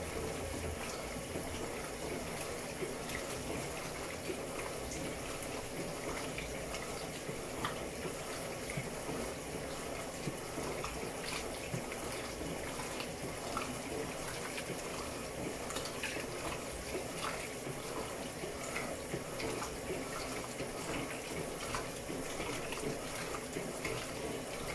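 An Electrolux LEC14-type washing machine fills with water on a heavy cycle, a faint, steady rushing hiss of inflow that runs evenly without pause.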